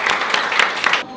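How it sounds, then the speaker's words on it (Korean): A short burst of audience applause, dense and fairly loud, that rises and falls briefly and then cuts off abruptly. "우리 잡았으니까 우리 앞으로 축복 많이 받으라고 박수 부탁드리겠습니다."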